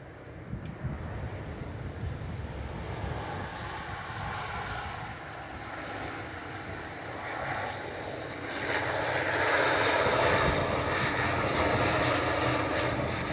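A Qatar Airways airliner taxis at Manchester Airport, its jet engines a steady distant roar and whine that swells gradually louder over the final seconds, with faint wind noise and no talking.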